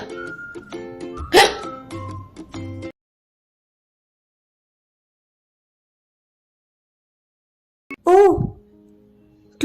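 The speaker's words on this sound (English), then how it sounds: "When the air rushing in hits your voice box, you are left with a big hiccup, thus creating that annoying noise." A cartoon hiccup jolts out once amid light music, followed by a long stretch of silence and then a second sharp hiccup-like burst.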